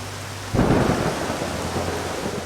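Heavy rain suddenly swells into a loud, dense downpour after a brief quieter start, with a low rumble underneath, continuing steadily.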